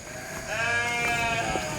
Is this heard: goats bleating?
yes